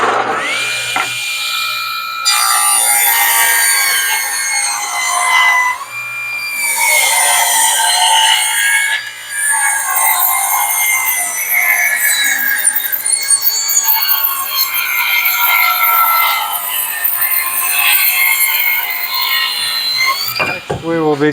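Saw cutting table legs from long, skinny wooden cutoffs, a loud close rasping, grinding cut running almost continuously with small dips in level, no voices.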